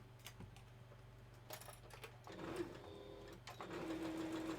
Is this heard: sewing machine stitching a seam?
yes